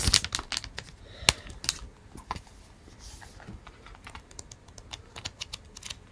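Paper pages of a vintage sticker book flipping quickly, a run of crisp, papery flicks and taps close up, with no talking.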